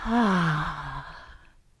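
A yoga lion's breath exhale, one strong open-mouthed breathy sigh with a voiced, falling tone that fades out over about a second and a half.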